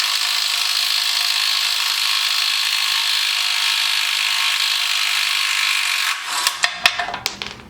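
A steady, loud mechanical whine from a weakening impact wrench on a Honda Civic rear trailer arm runs for several seconds, then breaks into a handful of sharp, rapid impact bursts.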